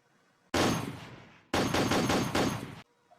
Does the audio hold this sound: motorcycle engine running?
no